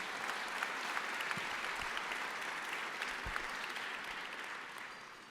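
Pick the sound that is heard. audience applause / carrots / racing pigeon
audience applause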